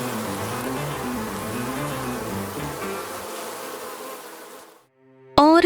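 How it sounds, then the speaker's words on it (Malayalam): A dense swarm of bees drones continuously at close range, then fades to near silence before a sudden loud burst at the end. "തേനീച്ചകൾ കുത്തുന്നുണ്ട് ഇത് നമ്മളെ കൊല്ലും"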